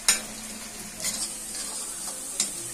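Garlic and onion browning in a frying pan give a steady, close sizzle, broken by a few sharp scrapes and clinks of a stirring spoon against the pan.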